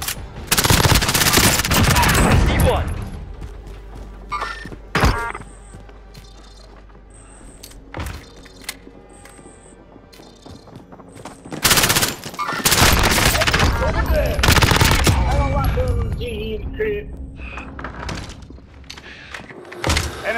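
Close gunfire in the game Warzone: loud bursts of automatic fire at the start and again later, separated by single shots, thuds and quieter in-game sounds, with a voice speaking during the fight.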